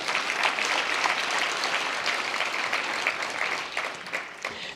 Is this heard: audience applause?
yes